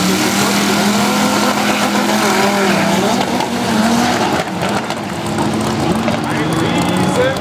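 Drag racing car pulling a big wheelie at the Hockenheimring, engine roaring loud and sustained with pitch sweeps, tire noise and crowd wash, a commentator talking over it.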